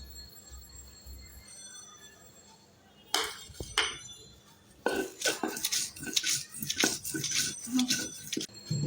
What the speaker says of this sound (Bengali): শুটকিগুলো আমি তেল ছাড়া কড়াইতে টাইলা নিচ্ছি